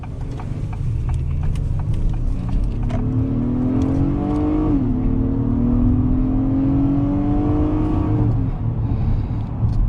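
A 2022 Acura MDX A-Spec SH-AWD three-row luxury SUV accelerates hard, its engine note climbing loudly, dipping briefly at a gear shift midway, then rising again before easing off.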